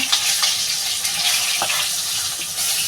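Continuous hissing and spitting of rohu fish frying in hot oil, close up, with occasional small pops and clinks.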